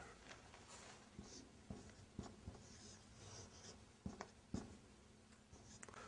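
Handwriting of Arabic words on a page, close and fairly quiet, with a steady scratch of the pen and several sharper taps and strokes spread through it.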